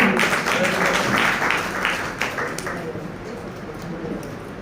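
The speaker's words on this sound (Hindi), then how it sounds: "जोरदार ताली हो जाए इनके लिए" An audience at a memorial gathering breaks into loud applause, dense clapping that is strongest at first and then fades away to scattered claps near the end.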